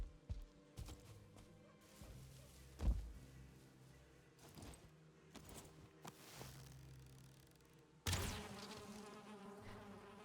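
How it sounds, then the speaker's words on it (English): Bees buzz faintly in a game world, a soft insect hum running under scattered footsteps and thuds, with a louder rush near the end. "Oh, there's bees."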